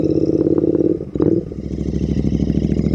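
A late-1970s or early-1980s Beagle Interceptor motorcycle rumbles up close with a deep, steady bass exhaust note that dips briefly, then settles into a throbbing idle.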